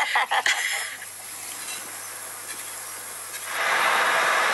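Train on a railway, a loud rumbling roll with hissing, fading to a quieter stretch before the noise swells again near the end.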